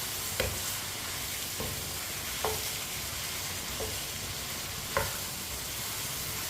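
Turnip pieces fry and get stirred in a hot pan over high heat: a steady, close sizzle broken by about five sharp spatula scrapes at uneven intervals.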